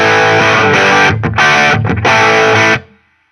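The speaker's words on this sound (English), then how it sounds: "So that'll be my main rhythm sound for the gig." Electric guitar with rhythm crunch from a Fender Duel Pugilist distortion pedal, a few loud strummed chords with brief choked gaps between them, then a quick muted stop.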